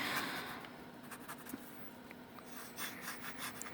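A fountain pen scratches across inexpensive, toothy sketchbook paper, giving a dirty inked line. The soft, close rasping strokes run steadily under a quiet background.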